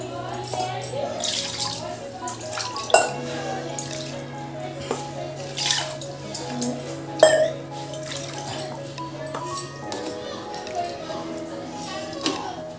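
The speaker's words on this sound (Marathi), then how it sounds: "तर आपण आता हे वाटण वाटलेलं भांडंसुद्धा आपण ह्याच्यात धुवून टाकू." Water runs and splashes while a spice-grinding vessel is rinsed out in a home kitchen, a steady wash with a few louder sloshes and clinks, under a voice talking throughout.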